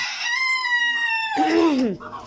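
Egyptian Fayoumi chickens call close by: a long, drawn-out crowing cry, then a shorter falling call.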